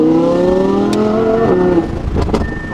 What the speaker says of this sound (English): So the R8 is pretty sweet. Got the titanium F1 exhaust on there. Sounds pretty damn good.